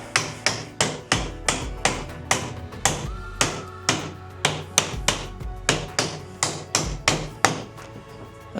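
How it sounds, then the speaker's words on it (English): A mallet knocks 3D-printed plastic parts of a full-size LEGO Technic PDK gearbox together, a brisk regular run of close, sharp taps, about two per second, with heavier thuds landing every so often. "where's the mallet of truth?"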